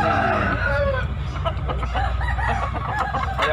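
Roosters crow and hens cluck loudly at close range at a poultry market in Makassar, several birds calling over one another with no pause and a busy, crowded feel.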